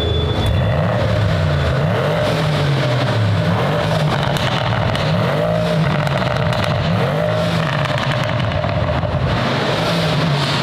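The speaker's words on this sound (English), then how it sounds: "Can you give me a rev? I need a rev in here right now." A newly delivered hypercar's engine revs repeatedly up close, its loud roaring note climbing and falling in a regular wave pattern over a constant mechanical drone, with no voices.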